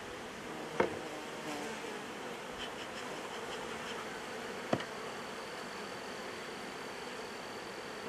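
Honey bees at an open hive hum in a steady, faint drone throughout, with two sharp knocks of equipment against the wooden box.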